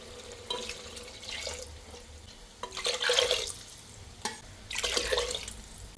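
Water is poured in several separate bursts from a glass into a cooking pot for rice, each splash and gurgle rising and stopping with quiet pauses between.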